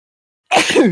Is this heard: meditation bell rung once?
no